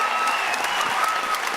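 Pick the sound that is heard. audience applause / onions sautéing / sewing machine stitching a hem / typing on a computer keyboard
audience applause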